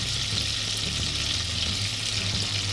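Generous spoonfuls of butter melt in a hot pan with a steady, loud, close hiss of sizzling that holds without a break.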